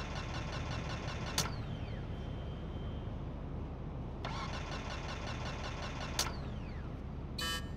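A worn, faulty car engine in GTA 5 being cranked and turning over amid steady engine noise, with a couple of sharp clicks and a brief rattle near the end.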